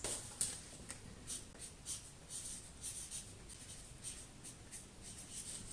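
A pen writing words into paper blocks for a race-track craft, soft continuous scratching strokes up close with brief pauses between words, quiet and alone.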